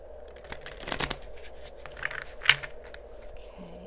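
Wild Unknown Tarot cards being shuffled, a few soft riffling and sliding bursts with papery scrapes, close and fairly quiet, with no talk.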